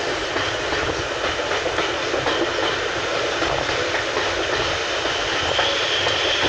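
Steam locomotive 62 Ugly hauls carriages between Dereham and Hoe, heard from aboard a coach as a loud, continuous rumble of wheels and running gear with a steady rhythmic clatter and no talking.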